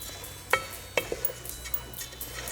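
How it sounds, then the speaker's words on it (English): Washed rice being stirred into a mint mixture in a pot, giving a few soft scraping and clinking stir strokes close by, with a faint sizzle underneath and no talking. "I'm just going to mix the rice"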